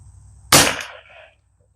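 A single sharp rifle shot from a Tikka T1x with a threaded barrel, fired outdoors: one loud crack that rings out and decays over about three quarters of a second, then quiet, with the start of a second report at the very end.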